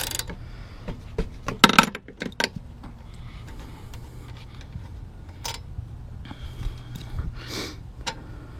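A 3/4 socket wrench works a spark plug loose on a gummed-up family lawn mower, giving scattered metallic clicks, scrapes and ratcheting taps at close range with quiet pauses between them.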